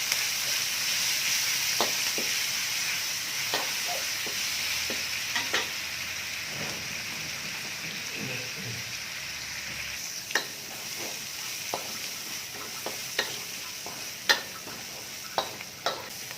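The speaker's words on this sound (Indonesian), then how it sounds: "Tumis sampai wangi." Chili spice paste and bay leaves sautéing in a pan, a soft continuous sizzle with scattered clicks of a spoon stirring, growing a little sharper later on, quiet and without any voices.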